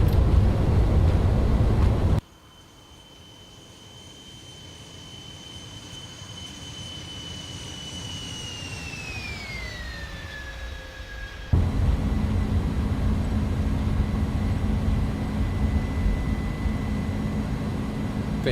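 Airbus A300-600ST Beluga jet engines in X-Plane 11 climbing after takeoff, a sustained whining tone that glides downward in pitch over several seconds, set between louder rumbling stretches of engine and airflow noise.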